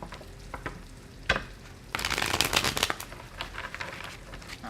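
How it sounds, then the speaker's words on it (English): Tarot cards being shuffled by hand, with soft flicks and a denser riffling burst in the middle, close and fairly quiet with no talking. "Just shuffling the last of them."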